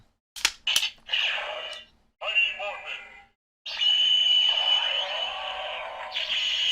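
Power Rangers Morpher toy sounding off electronically when a key is inserted: bursts of tinny, compressed voice call-out and synthesized effects from a small speaker, played loud in short segments with gaps.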